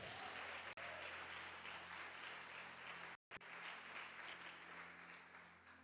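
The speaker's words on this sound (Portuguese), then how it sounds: "Vamos aplaudir a Deus pela vida deles." A church congregation applauds in praise during a sermon, a dense, steady wash of many hands clapping that holds strong throughout, broken by two brief dropouts and tapering slightly at the end.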